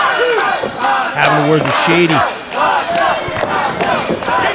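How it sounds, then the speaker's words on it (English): A crowd at an independent professional wrestling event shouts and chants loudly, with rising voices and cheers swelling in waves. A commentator talks over the noise. "Listen to this crowd."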